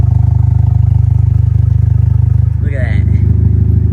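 A Ford Fusion with a rigged exhaust that has no resonator and no muffler, only the catalytic converter and no support in the middle, idles with a loud, deep, throbbing drone. Someone speaks briefly over it.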